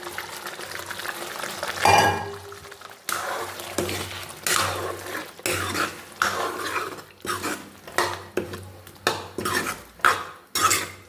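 Potatoes for a potato, tomato and pea curry are tipped into a pan and stirred, giving a burst of clatter followed by a run of regular metal spoon scrapes and knocks against the pan, close and fairly loud with no talk.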